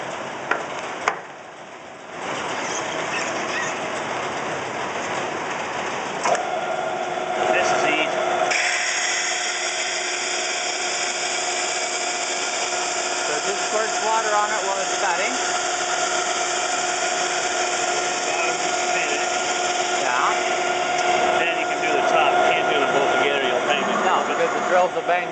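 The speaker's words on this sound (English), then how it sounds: "So this drill runs from the bottom and from the top." A glass drill cuts from both the bottom and the top at once, a loud steady high-pitched whine that starts after a brief pause and holds for a long stretch, with someone talking over it.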